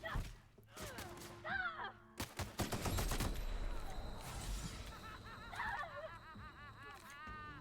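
Rapid gunfire from The Outer Worlds, a burst of sharp close shots followed by a longer ragged volley, with voices talking and game sounds mixed in.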